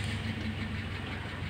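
A car engine, bought secondhand and under repair, idling steadily at low pitch after being started, a continuous close rumble with no talk.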